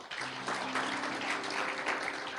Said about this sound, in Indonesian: Boleh kasih tepuk tangan buat Tuhan.